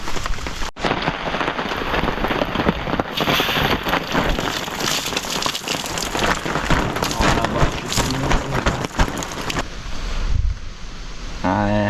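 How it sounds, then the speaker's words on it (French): Steady rain pattering at night around a makeshift carp-fishing bivvy in November, a dense continuous hiss of drops on surfaces lasting throughout, close and fairly loud with no voices. "6 heures il pleut"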